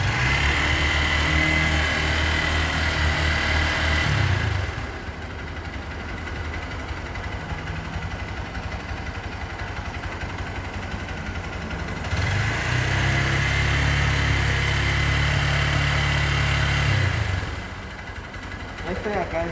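Motorcycle engine revved during a line inspection test, with loud sustained high-rev stretches separated by quieter idling, under a continuous mechanical drone; a voice talks over it.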